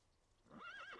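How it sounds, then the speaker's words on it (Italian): A cartoon horse whinnies once, a short wavering neigh that rises in after a quiet start and sounds close and clear, with no talk during it. "Lucky è un cavallo buonissimo!"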